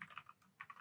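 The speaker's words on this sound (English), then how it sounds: "I'll type here" Quiet computer keyboard typing, a short run of soft, closely spaced key clicks in two brief clusters with a small pause between them.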